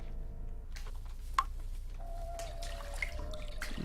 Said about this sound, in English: you start hearing footsteps that are water related, with splashing around you even after you stopped